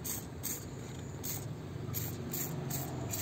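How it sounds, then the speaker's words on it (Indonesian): Spraying black sapote plants to kill whiteflies: a steady wet hiss of spray runs throughout, with a few short bursts layered on top and no talk. "Jadi kita semprot sampai basah ya"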